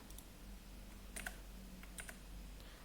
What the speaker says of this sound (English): I press X on my keyboard like this